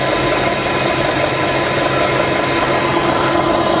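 A Bridgeport belt-drive milling machine runs with its power feed engaged, a loud, dense, continuous mechanical whir and drone close up with no pauses.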